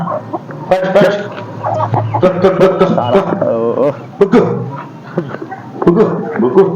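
Chickens cluck and chatter close by in a rural yard while people talk over them, and a dog may bark once or twice.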